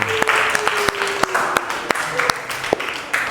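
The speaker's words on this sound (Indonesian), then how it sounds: "Kita kasih aplaus untuk kelompok pertama." Audience applause for a group presentation in a classroom, a steady wash of many hands clapping with sharp individual claps standing out, moderately loud and close, with some voices under it.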